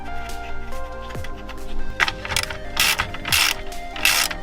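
A threaded rod is screwed into the plastic of a GTI car grille, giving a series of sharp ratcheting clicks and mechanical scraping bursts that grow louder and denser toward the end, close up with no talk.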